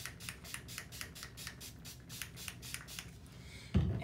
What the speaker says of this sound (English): And I'm gonna just spray this.